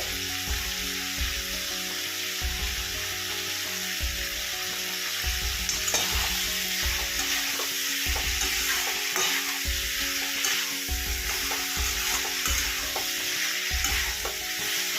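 An omelette and cauliflower curry being sautéed in a pan gives a steady close sizzle throughout, with repeated low scraping thumps of a spatula stirring in a loose rhythm and no talking.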